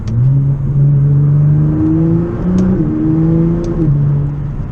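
A Nissan GT-R engine revs up hard under acceleration, its steady droning tone climbing and then dropping sharply at each paddle-shifted gear change, loud and close with no talking.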